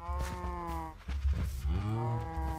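Several cows moo in the video game Kingdom Builder: drawn-out, low lowing calls follow one another, loud and near, over a steady game backdrop, with no talk.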